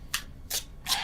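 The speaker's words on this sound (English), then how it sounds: "I was just moving the cards." Tarot cards shuffled and shifted by hand in three quick, crisp riffling bursts, evenly spaced and close, with no talking.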